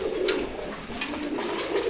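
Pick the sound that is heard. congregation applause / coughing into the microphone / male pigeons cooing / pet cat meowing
male pigeons cooing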